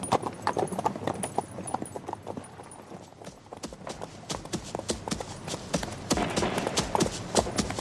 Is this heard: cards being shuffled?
no